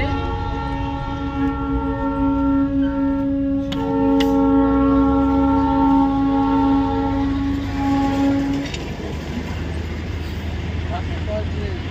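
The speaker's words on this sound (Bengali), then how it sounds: "সেই টয় ট্রেন আসছে" Darjeeling toy train approaching and passing at night in the hills, its horn sounding a long steady note with a short second blast, over continuous engine and road rumble; voices talk faintly.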